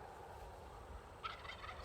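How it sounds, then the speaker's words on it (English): Wild turkeys gobbling far off across spring farmland, a faint burst of rapid, warbling calls partway through over steady outdoor background noise. "we hear some turkeys over there beyond Camp A cackling away"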